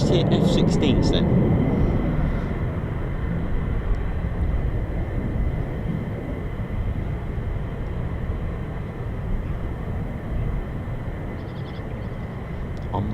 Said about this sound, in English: I could have sworn I just heard F-16s.